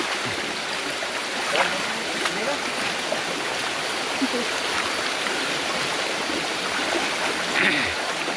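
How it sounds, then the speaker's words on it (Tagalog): A strong, swollen stream current rushes steadily in a natural outdoor setting during a fishing outing, a dense broadband wash of water with occasional splashes and a brief murmur of voices nearby. "Malakas na yung agos guys. Taas na siya"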